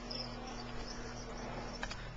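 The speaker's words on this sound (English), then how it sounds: "I got baby crickets out the wazoo." Baby crickets in a breeding container make faint, steady high chirping over a low background hum.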